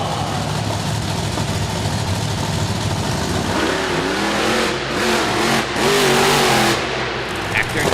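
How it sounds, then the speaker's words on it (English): The Venom monster truck at a Monster Truck Nationals event in DuQuoin, Illinois, revs its engine before a long jump. A loud, continuous engine roar climbs in pitch and swells toward the end over a steady background rumble. "we're going long jumping, and Denver Echternkamp in that Venom truck starts off the competition"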